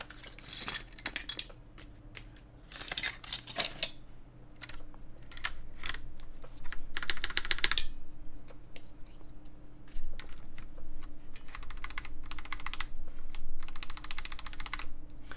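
Typing and tapping on a Baron Boards BP One mechanical keyboard to check its stabilizers for rattle: bursts of sharp clacky keystrokes and spacebar thocks, close and loud, with short pauses between runs over a low background hum.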